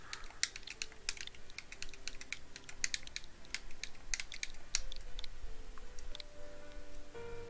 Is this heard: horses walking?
no